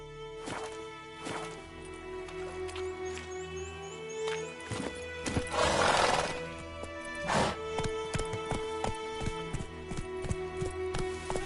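Roach the horse gallops in The Witcher 3, with a steady run of loud, close hoofbeats clip-clopping over ambient game sound, a gusty whoosh in the middle and a brief snort.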